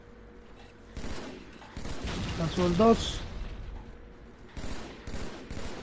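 Gunfire bursts in a video game's base fight rattle through the middle of the clip, several quick shots over game noise, while players talk throughout.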